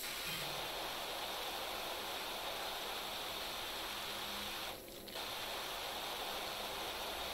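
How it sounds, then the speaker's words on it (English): A pressure washer in the video game PowerWash Simulator sprays in a faint, steady hiss that runs unbroken, with a brief mechanical click partway through. "Love the spray. Spray's awesome."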